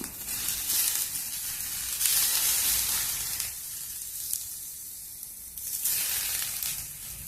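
Raw banana slices frying in a pan with lemon juice added and stirred in, a continuous loud sizzle that swells and eases in waves as the mix is turned.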